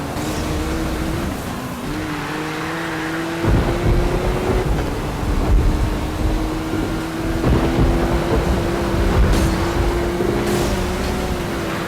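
Loud, steady car engines roar and rev continuously in the video game Need for Speed Rivals, with pitch shifting as the vehicles speed along.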